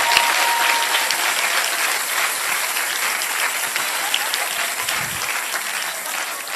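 Audience applause fills a church service, a dense, steady wash of clapping at close range that holds throughout and fades slightly near the end, with a few faint crowd voices mixed in.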